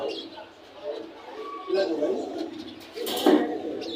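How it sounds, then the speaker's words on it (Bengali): Pigeons at an outdoor pigeon market give low, soft coos at close range, mixed with background chatter and a brief high chirp near the end. "ভাইয়ের কাছে আরও এক জোড়া কবুতর আছে, ব্ল্যাক রেসার বলে এটাকে।"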